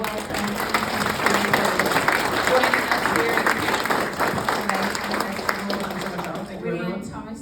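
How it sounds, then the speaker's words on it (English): An audience at a startup conference opening keynote gives sustained applause, a dense steady wash of many hands clapping that fills the hall before thinning out, with a voice speaking over it. "If we can have another big round of applause"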